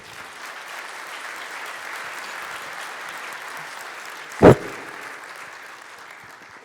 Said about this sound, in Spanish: Un aplauso nuevamente para ellos, por favor.